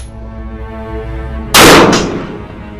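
A single sharp Ruger rifle shot on an outdoor shooting range, loud and close, its blast decaying over about a second above a steady low background hum, no talking.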